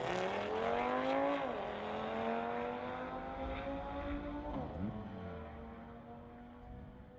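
Drag racing at a street-legal event: a Volkswagen and a 2018 Audi launch side by side, loud engines revving hard with rising pitch sweeps and gear changes across several seconds, no voices.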